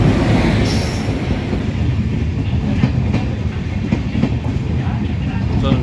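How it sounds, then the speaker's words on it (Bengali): The Kanchankanya Express on LHB coaches pulling into platform 1 at Hasimara station, a loud rumbling roll with rhythmic wheel clatter and faint squeals, continuous and close. "শিয়ালদা কাঞ্চনকন্যা এক্সপ্রেস হাসিমারা স্টেশনের 1 নম্বর প্ল্যাটফর্মে আসছে।"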